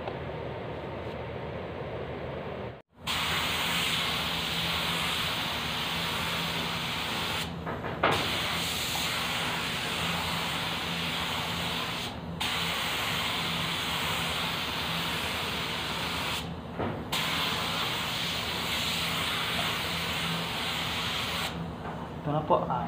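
A spray gun hisses steadily as it sprays blue automotive lacquer paint, long continuous bursts broken by a few short pauses, close and loud, with faint talk before it starts.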